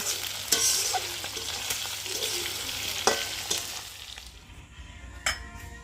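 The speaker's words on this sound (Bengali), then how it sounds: "মাংসটাকে কড়া ভাজা দিতে যার জন্য একটু বেশি লাল লাল করে ভেজে নিচ্ছি" Steady sizzling of meat frying in a pan, with scraping stir strokes and occasional clinks of a utensil throughout.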